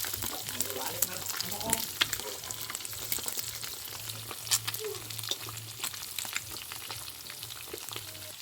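Food frying in a pan, giving a steady crackling sizzle with scattered pops and spatters throughout and a low hum running underneath, while a voice talks quietly now and then.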